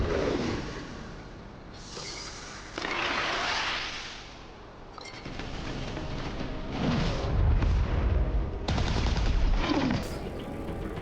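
Artillery fire and gunfire rumble through an Earth vs Mars real-time strategy battle, with repeated booming bursts and crackling volleys layered continuously, swelling louder toward the end with heavy low thuds.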